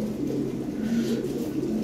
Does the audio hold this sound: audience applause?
no